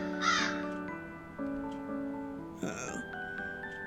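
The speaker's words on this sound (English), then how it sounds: "Crows are never a good omen." Crows caw in harsh, rasping calls, two or three loud close caws spaced across a few seconds, with steady tonal music beneath and no voices.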